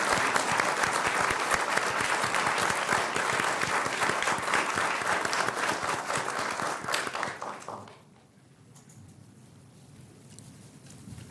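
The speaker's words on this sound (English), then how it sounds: "Please join me in a final round of applause for our Business Honor Roll winners." A school awards audience gives sustained, loud, dense applause for business honor roll winners that fades out after about eight seconds, leaving a quiet room with faint scattered sounds.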